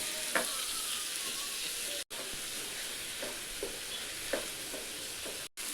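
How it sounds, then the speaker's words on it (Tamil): Tomatoes and onions sauté in a pan for chutney, giving a steady close sizzle with a few soft scraping stirs and two brief dropouts. "கொஞ்சமாக இந்த தக்காளி வதங்கிட்டு கூட உப்பு சேர்த்துட்டு கொஞ்சமாக கருவேப்பிலையில் சேர்த்துட்டு இந்த தக்காளி நல்லா வதக்கிக்கலாம்."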